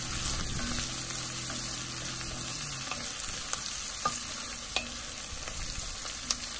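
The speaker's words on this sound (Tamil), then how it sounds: "நல்ல வெங்காயம் வந்துட்டு வதங்கணும்." Onions sauté in a pan for egg biryani, giving a steady, fairly loud sizzle with a low hum early on and a few crisp clinks of a spoon stirring toward the end, close up and with no talking.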